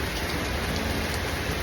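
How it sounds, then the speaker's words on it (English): Heavy rain pours down on an outdoor tennis court in Miami during a storm, a dense, loud, continuous hiss of drops with no voices. "stuck in the craziest storm"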